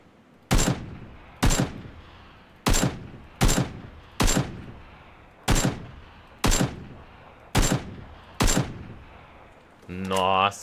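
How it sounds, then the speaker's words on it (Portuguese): Single AK rifle shots in PUBG: Battlegrounds ring out loudly, nine sharp cracks with echoing tails at irregular intervals of about a second, followed by a brief electronic game sound. "3 tiros de AK"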